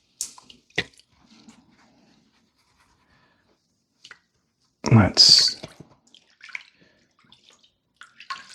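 Gold paydirt being washed by hand in water, with a few scattered splashes and drips, then a louder burst of sloshing and swirling midway; quiet between the bursts, close and intimate.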